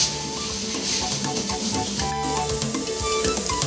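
Plantain chin-chin dough pieces fry in hot oil, a loud, continuous sizzling hiss with crackling pops throughout.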